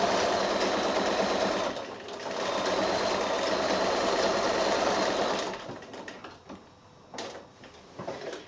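Sewing machine stitching quilt binding on a giraffe wall hanging, a steady close whirring run that pauses briefly near two seconds, then slows into short uneven bursts and stops toward the end.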